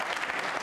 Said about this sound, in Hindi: तालियां अपने लिए जोरों से बजाइए।